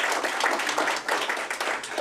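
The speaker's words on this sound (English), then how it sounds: "Can we just maybe give him one more round of applause?" An audience at a conference on African thought breaks into applause, a dense burst of many hands clapping in uneven rhythm, close and continuous for a couple of seconds.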